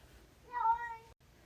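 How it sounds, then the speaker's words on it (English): A house cat gives a single clear meow, close and fairly soft, in an otherwise quiet room. "Sorry if you can hear my cat."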